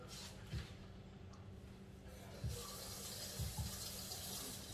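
Kitchen tap water runs steadily into a sink as someone measures out cups of water for cooking, a continuous close hiss with a few soft knocks and clunks over it.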